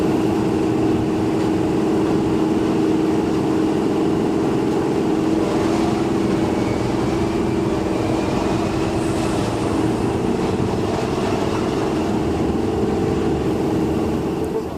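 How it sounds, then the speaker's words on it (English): Steady, loud low-frequency roar of a Class 37 diesel locomotive engine, heard continuously from inside the cab on a heritage line, with a sustained droning hum and no speech. "The throaty roar of the engine is best heard in the cab when passing under road bridges."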